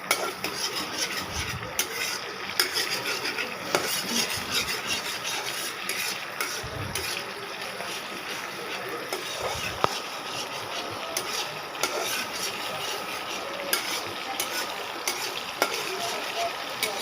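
Bottle gourd pieces for a prawn curry fry in a pan, a continuous hiss broken by repeated scraping and stirring strokes and occasional knocks against the pan, close and fairly loud.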